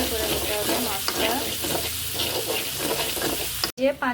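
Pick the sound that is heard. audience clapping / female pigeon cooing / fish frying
fish frying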